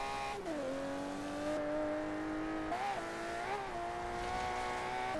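An Aston Martin One-77 tuned for time attack in Forza Horizon 3 accelerates hard. The engine note climbs through several gear changes, loud and close, with no talking over it.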